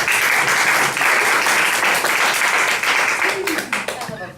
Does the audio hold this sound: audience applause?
yes